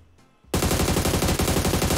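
Rapid automatic gunfire in a close-quarters shooter game match, one squad fighting four, bursting in loud and sustained after a brief quiet lead-in, with dense repeating shots for the rest of the moment.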